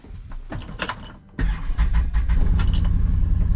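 A Can-Am Defender side-by-side engine cranks with a brief whirring starter, then catches and settles into a close, steady, rumbling idle.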